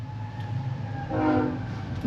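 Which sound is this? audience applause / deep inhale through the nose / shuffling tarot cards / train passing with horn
train passing with horn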